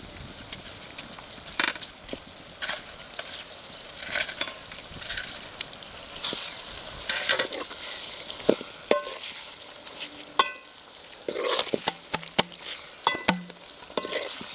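Eggs and potatoes are stirred into a sizzling spicy Bengali-style egg gravy, with a steady frying hiss under repeated scraping stirs of a spoon against the pan, close up and alone.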